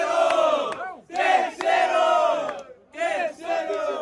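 A crowd at a student rap battle semifinal cheers and shouts in three loud bursts, a dense roar of many voices that swells, dips briefly and rises again, close and energetic.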